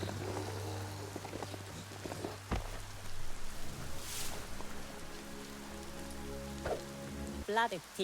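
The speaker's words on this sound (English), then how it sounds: "it's raining and I am the one invading" Steady rain falls across a game world in Biomutant, a soft continuous hiss running under the whole stretch, with scattered game effects and low musical tones layered on top.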